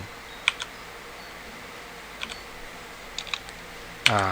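Sparse keystrokes tap on a computer keyboard while searching, a few quiet clicks in short bursts separated by pauses, ending with a sharper louder click.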